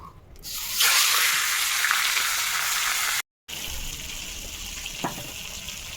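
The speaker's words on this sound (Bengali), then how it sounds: "আগে মাছের মাথাটা ভেজে নিই" A fish head drops into hot oil and fries with a loud, steady hiss and crackle that begins abruptly, breaks off for a moment, then carries on sizzling with occasional pops.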